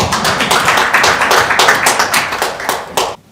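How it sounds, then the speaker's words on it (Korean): Applause for a professor at a policy forum, a smaller group of hands clapping in quick, somewhat uneven bursts for about three seconds before stopping abruptly. "곽승진 교수님께 큰 박수 부탁드립니다."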